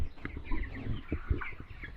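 Chickens on a poultry farm cluck in short scattered calls amid rustling and occasional thumps, moderately close, with no talking.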